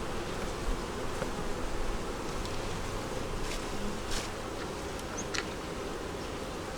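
Honey bees buzzing around a hive on a day of changed weather, a dense continuous drone of many bees close by, steady and unbroken with a few brief louder passes.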